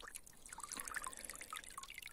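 Water trickles and splashes steadily from a homemade drip-irrigation container set under a pear tree, a fine continuous stream with small patters, fairly faint and close, with no talk.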